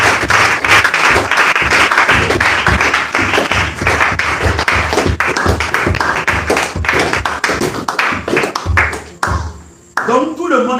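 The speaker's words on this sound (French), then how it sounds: "Acclamons le Seigneur Jésus." A church congregation applauding and cheering in acclamation of Jesus, a dense, loud wash of clapping and shouting voices that fades out near the end, leaving scattered voices.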